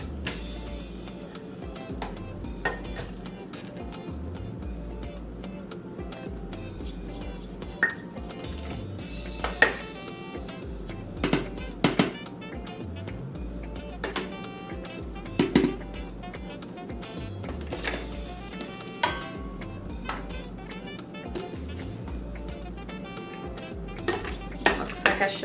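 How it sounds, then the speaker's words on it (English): Flour and salt go into a large mixing bowl for a from-scratch pie crust, with repeated light clinks and taps of utensils against the bowl scattered over a steady low room hum. "we are going to add the flour and salt into a large mixing bowl"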